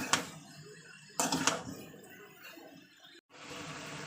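Water is poured into a pan of spiced potatoes that were being sautéed, giving a steady, close, rushing splash that follows a few sharper knocks and clatters.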